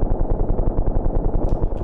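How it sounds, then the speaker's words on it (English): Rapid rhythmic thumping from the combat game Ravenfield during a helicopter assault, a fast rumbling run of heavy repeated bursts like rotor or automatic fire, close and loud, with a brief hiss near the end. "I think it was an explosion."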